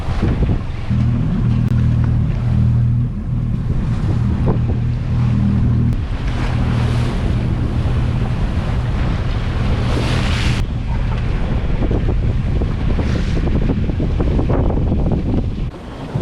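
Strong wind roars across the microphone with waves and water rushing past a moving sailboat in the Swedish archipelago, a loud steady buffeting throughout.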